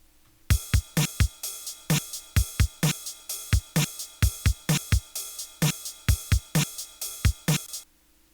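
A full electronic mix from an album plays loud and close: punchy drum hits in a driving, uneven pattern, with ride and hi-hat, over sustained bright 8-bit style guitar tones, ending abruptly after about seven seconds.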